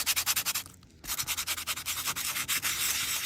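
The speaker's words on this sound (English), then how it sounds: "So I'm going to sand it." A tiny mini sanding block scrubbing over metal tape, a rapid rhythmic back-and-forth scratching with a brief pause, close and steady.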